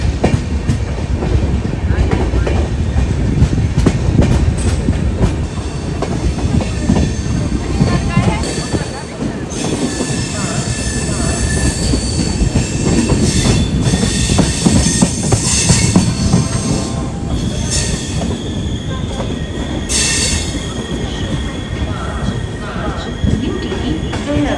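Jan Shatabdi express train running into Haridwar junction, a loud continuous rumble of wheels on rails with rhythmic clatter and occasional squeals, with some voices mixed in.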